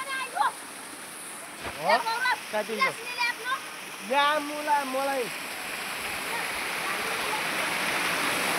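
Someone speaks a few short phrases at close range, over a steady background rush of falling water that continues after he stops.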